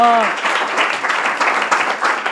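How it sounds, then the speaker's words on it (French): Audience applause for students of a school at the final of a televised competition show, dense and steady for a couple of seconds after a brief voice at the start. "Ce qu'on peut applaudir pour les élèves de l'Institut"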